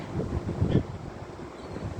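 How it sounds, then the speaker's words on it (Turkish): Steady wind buffets the microphone with low rumbling gusts, loud and close, with no other clear sounds. "Biraz rüzgarlı."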